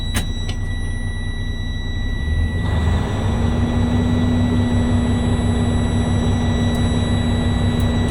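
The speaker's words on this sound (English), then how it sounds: "Now I'm going to assist the air compressor by revving my engine up between 12 and 1500 RPMs." Diesel truck engine revved and held at roughly 1200 to 1500 RPM to build air compressor pressure toward 120 to 140 PSI, a steady loud low drone that rises slightly in pitch after a few seconds and holds continuously, with no talking.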